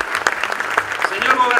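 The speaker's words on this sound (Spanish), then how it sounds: "me gané un aplauso como el de recién" A crowd claps at a political ceremony where a governor and mayor sign the start of street paving. The clapping comes as a brief, dense burst of crackling hand claps at moderate distance.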